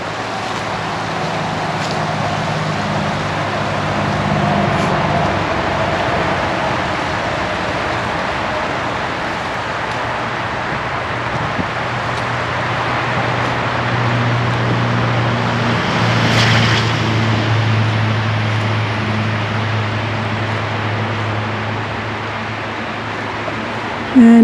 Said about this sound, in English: We do have some road noise traffic.